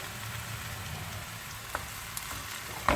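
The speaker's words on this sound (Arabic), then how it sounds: "من بعد ما تشحر البصله طيح كنزيدوا لها السبانخ شويه بشويه" Spinach cooking down with browned onion in a pan gives a steady, soft sizzle and crackle, with a few sharp pops and a louder clink near the end.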